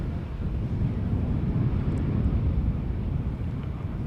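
Aircraft taxiing at Schiphol Airport, a steady broad low rumble with wind noise, continuous and moderately distant, no talking.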